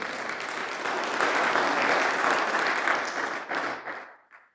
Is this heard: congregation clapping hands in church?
yes